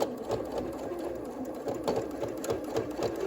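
A sewing machine stitches along the overlapping folds of a triple-pleated face mask, its needle running in a steady close rattle with rhythmic pulses, alone throughout.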